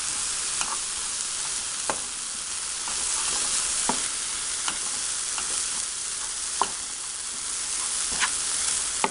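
Carrot farofa with a handful of potato sticks is stirred in a hot pan, giving a steady sizzling hiss broken by regular scraping clicks of the utensil, close up with no talk.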